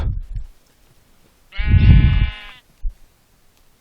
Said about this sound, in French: Allez, les moutons, allez.